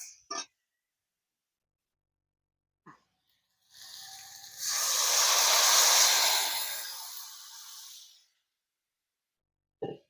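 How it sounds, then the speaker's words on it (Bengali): Water poured into a pan of spices fried down for a fish curry with kohlrabi bursts into a loud hissing sizzle lasting about four seconds, swelling then fading, with a few soft clinks before and after. "ভালো করে কষা হয়ে গেছে। এবার জল দিচ্ছি।"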